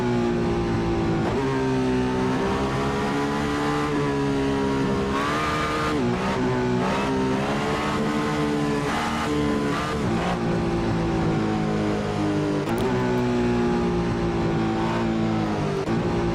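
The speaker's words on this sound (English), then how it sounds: "this car that I'm driving right now is crazy loud" Loud, steady engine drone of a race car driven in the Assetto Corsa racing game, holding a sustained rev with brief dips and pickups as it shifts, continuous and close throughout with no talking.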